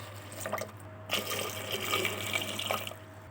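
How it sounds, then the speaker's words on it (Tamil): Water pours from a tap into a pressure cooker holding sweet potatoes, a soft running splash that stops briefly and then resumes, faint and close. "தண்ணி ஆட் பண்ணிக்கோங்க"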